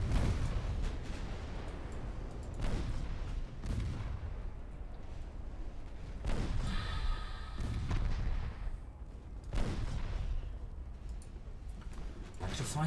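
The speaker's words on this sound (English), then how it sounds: "Torpedo detonation, good." Heavy booming detonations from a naval battle in Ultimate Admiral Dreadnoughts, a torpedo hit among several loud low thuds spaced a few seconds apart over a steady rumbling background.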